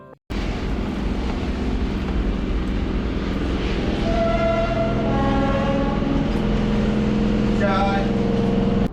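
A Howrah–Bardhaman local train pulls into a station, a steady loud rumble and rolling clatter with squealing brake tones rising near the end, under station ambience.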